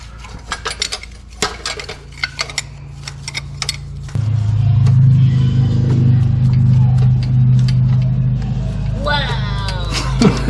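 A motorcycle engine roars up around the four-second mark as it revs and passes, holding a steady rumble, with clinking metal sounds and some talk before it.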